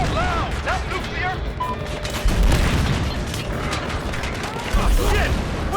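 An AC-130 gunship pours fire onto a private militia in a Battlefield campaign mission, rapid bursts of gunfire and heavy booms rattling on amid chaotic battle noise, with shouting voices mixed in.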